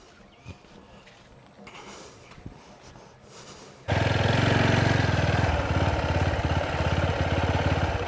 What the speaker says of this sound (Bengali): তো আগে গাড়িটা তুলি নৌকার উপরে।